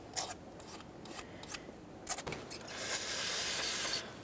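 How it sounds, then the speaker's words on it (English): Old gasket material is scraped off the intake surface of a 2011-2020 Toyota Sienna 3.5L V6 in short, close scratchy strokes, followed by a longer hissing spray-like scrape before it stops. "Make sure we're scraping away from the ports."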